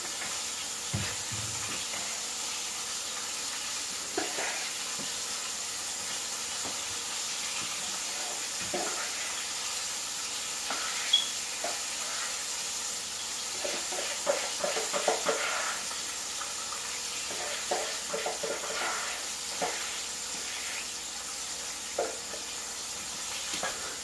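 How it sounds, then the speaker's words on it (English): Fish frying in hot oil in a home kitchen, a steady faint hiss and crackle with scattered soft pops and occasional clinks, continuous and fairly quiet throughout. "we're about to take the fish out. And we're going to fry a little more."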